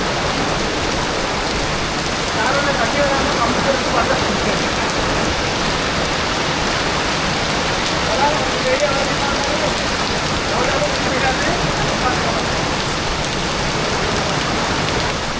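Heavy rain pours steadily onto a covered outdoor wood-fired stove, a dense, loud, unbroken downpour throughout, with a voice faintly speaking under it.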